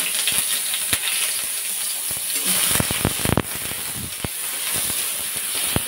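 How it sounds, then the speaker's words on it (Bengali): Chopped onions hit hot oil already holding dried red chillies, setting off a loud steady hissing sizzle broken by sharp spoon clicks and scrapes against the pan. "এবার দিয়ে দিচ্ছি পেঁয়াজ কুচি"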